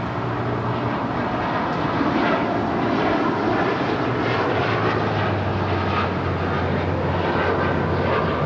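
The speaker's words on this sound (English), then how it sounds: "That is Air Canada 788 taking off to Toronto on a 787-9 Dreamliner" Air Canada Boeing 787-9 Dreamliner taking off from runway 25 right at Los Angeles International, a continuous heavy jet engine roar, fairly strong and even across the whole stretch, with no one talking.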